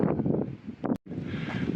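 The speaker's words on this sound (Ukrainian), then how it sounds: "Тут знаходиться на пагорбі і такий сильно-сильно завіває вітер." Strong wind on a hilltop near Burg Kreuzenstein castle in Austria buffets the microphone in a steady, rough roar with gusty surges and a brief dropout partway through.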